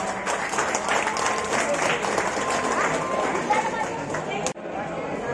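Applause from an audience at a ceremony at the Tiroda bus depot, held to induct five new red state buses. Steady, dense clapping fills the scene with chatter mixed in, then cuts off sharply near the end.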